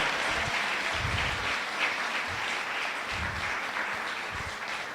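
A church congregation applauds during a sermon, a continuous moderate wash of clapping from many hands with a few heavier claps standing out, heard from a short distance.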